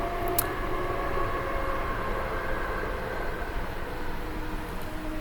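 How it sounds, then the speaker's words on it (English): A train rumbles past outside an open window, a steady, moderately loud wash of low rolling noise and hiss that holds evenly throughout, with no voices. "And that's the train."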